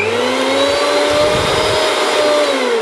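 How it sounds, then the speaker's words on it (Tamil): A Preethi Crown mixer grinder runs with its small jar fitted, giving a loud, steady motor whine with a faint rise in pitch, close up and with no voices. "ஃபஸ்ட் நம்ம மிக்ஸி உங்களுக்கு எப்படி ஓடுதுன்னு பார்க்குறேன்."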